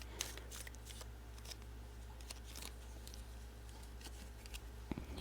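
Tarot cards are shuffled by hand in a quiet room, soft riffling bursts repeating through the stretch with a light tap near the end, fairly faint and close.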